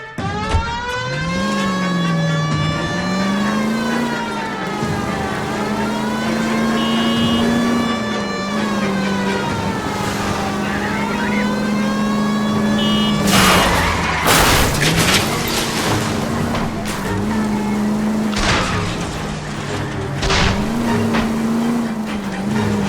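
A car driven hard in LA Noire, its engine revving up and down through gear changes in a steady, loud drone, with crashes and impacts breaking in midway.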